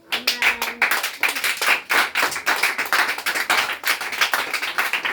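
A church congregation claps together in acclamation of Jesus Christ, a loud, fast, rhythmic run of sharp claps heard up close, with a brief sustained tone early on.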